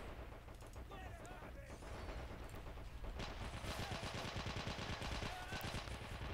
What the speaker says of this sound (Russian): Это пулемет.